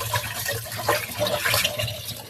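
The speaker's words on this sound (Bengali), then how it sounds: "এখন মাছগুলো ধুয়ে নিব।" Fish are rinsed in water in a home kitchen, with steady splashing and a running, trickling sound heard close up and no talking.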